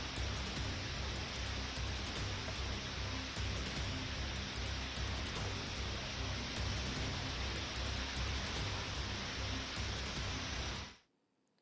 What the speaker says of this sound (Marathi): नवी मुंबईच्या वाशी परिसरात मुसळधार पावसाने हजेरी लावल्याचं दिसतंय।